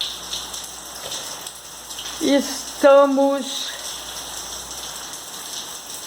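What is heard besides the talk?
rain falling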